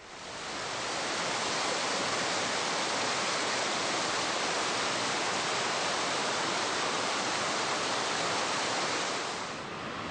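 A mountain stream rushes along a hiking trail through trees at Whiskeytown, a loud, dense and unbroken roar of flowing water that swells in at the start and eases slightly at the very end.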